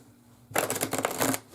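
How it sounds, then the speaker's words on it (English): Tarot cards being riffle-shuffled, a quiet room, then a dense, papery flutter of cards for about a second, close and fairly soft, ending with a small tap. "I do three shuffles this way."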